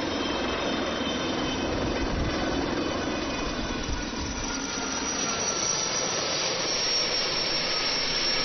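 Steady loud rotor and turbine roar of a helicopter flying near the hospital ship Peace Ark at sea, a continuous broadband drone that holds without pause throughout.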